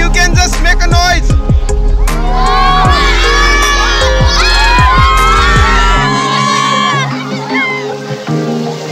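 A group of schoolchildren shouts, whoops and cheers loudly together during an outdoor adventure river crossing, with excited voices rising and overlapping in bursts, then tapering off toward the end.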